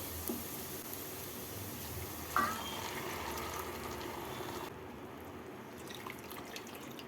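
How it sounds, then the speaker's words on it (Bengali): Milk pours into a pot for milk pilaf with a steady low liquid rush and a light splash near the start. The sound is close, fairly faint and fades a little toward the end. "এক কাপ চালের জন্য দু কাপ দুধ দিচ্ছি"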